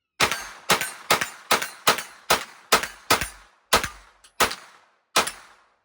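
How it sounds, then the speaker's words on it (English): Eleven sharp gunshots from a Smith & Wesson M&P FPC folding 9mm carbine fired at exploding targets outdoors, evenly spaced at about half-second intervals, each a loud crack with a short ringing tail. "Shooting this M&P FPC 9mm."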